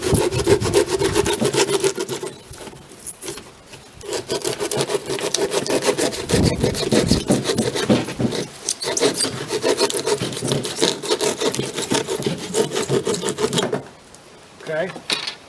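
Cork bark being pried and picked apart along a crack to make snake hides gives rough, rasping rubs and scrapes in close bursts, with brief pauses and someone talking throughout.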